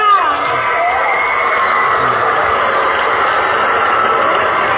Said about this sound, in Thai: อีกหนึ่งปรบมือดัง ๆ ให้กับอีกสองโรงเรียนของเราศึกษานารีค่ะ